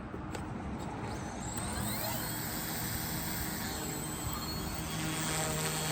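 A Carmanon OH-58 or UH-1D Huey helicopter hovers on a test flight outdoors in gusty wind, giving a faint, steady whine with shifting tones over constant wind noise.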